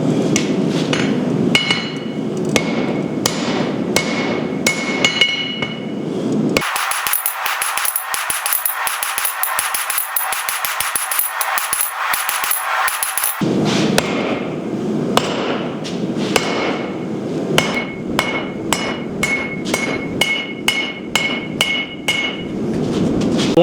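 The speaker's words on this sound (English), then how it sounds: "we're gonna take it out and we're gonna forge it and try to establish some sides" A hammer forges a hardy tool on a beginner blacksmith anvil: steady, rapid ringing blows repeat close and loud, broken midway by a stretch of bright, sustained metallic ringing before the rhythmic hammering resumes.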